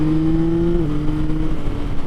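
A Yamaha MT-09 motorcycle with the Y-AMT semi-automatic transmission running on a track, a loud steady engine drone that drops slightly in pitch partway through, close and continuous with no talk.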